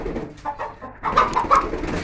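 Índio Gigante giant chickens and other birds at a breeder's yard, with soft cooing and calls close by, growing busier and louder in the second half over a steady background hum.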